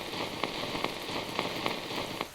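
Steady rain falls on a surface, a dense, even patter with scattered louder drips, heard alone at moderate volume.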